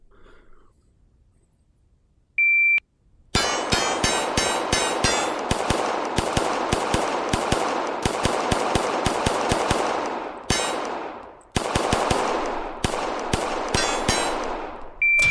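Rapid strings of gunshots ring off steel targets during defensive shooting practice, loud bursts of fire with sharp metallic clangs, two brief pauses, and a beep tone at the start and end.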